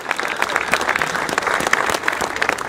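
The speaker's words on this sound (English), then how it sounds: "Give him a round of applause for Graham." An outdoor crowd at a football statue unveiling applauds the sculptor, a brisk, dense wash of clapping heard alone for a few seconds.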